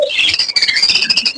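Many small caged birds, including zebra finches and budgerigars, chatter and chirp without pause at the crowded Mirpur-1 bird market, a dense, bright twittering layered close together.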